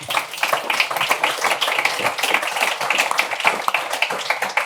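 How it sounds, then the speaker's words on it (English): An audience at an automotive end-of-life vehicle regulation panel claps for the panelists, a steady, dense patter of many hands sustained throughout at moderate loudness with no talk over it. "How about a round of applause for them?"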